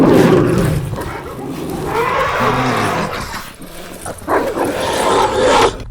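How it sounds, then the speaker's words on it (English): Three dogs savagely attack a lion: loud, close snarling, growling and barking in bursts, mixed with deep roaring and frantic scuffling that surges and drops through the struggle. "The three dogs pounced on it until the lion tore its limbs apart."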